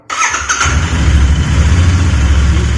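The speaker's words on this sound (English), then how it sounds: "Now let me just start the motorcycle and show you that this indicator is now not glowing." A Royal Enfield Interceptor GT650 motorcycle cranks briefly and fires up, then settles into a loud, close, steady twin-cylinder idle with no talking.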